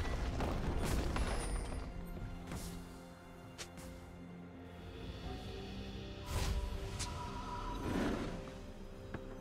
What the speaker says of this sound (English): Team's turret has been destroyed.